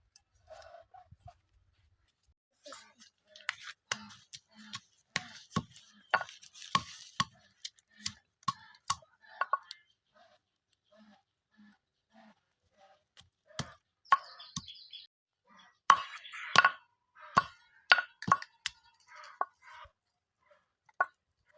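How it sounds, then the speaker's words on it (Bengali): Jujube fruits being pounded by hand: irregular bursts of sharp knocking thuds, close and fairly quiet, with pauses between runs and faint clucking of chickens nearby. "আমি বড়ই ছেঁচছি আর আমার বান্ধবী বসে বসে খাচ্ছে"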